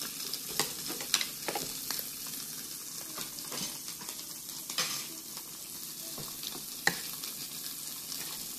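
Shrimp fry in butter in a pan, a steady broadband sizzle with scattered sharp pops and spatters throughout, close and fairly loud, with occasional stirring clinks and no talking.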